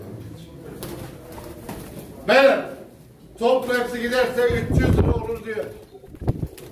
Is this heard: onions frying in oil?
no